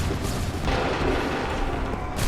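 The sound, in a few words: volley fire in Assassin's Creed III video game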